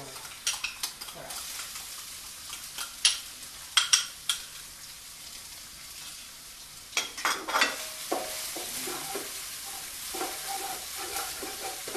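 Chili and garlic stir-frying in a pan with a little oil for Thai holy basil stir fry, a soft steady sizzle broken by sharp scrapes and clatters of a utensil against the pan.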